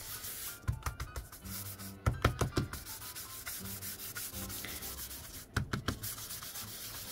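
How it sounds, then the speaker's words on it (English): Embossing tool rubbed over black cardstock, giving soft scratchy rubbing strokes in bursts, with clusters of short scrapes near the start, in the middle and again toward the end, close and quiet. "Take my embossing buddy, go over the whole thing."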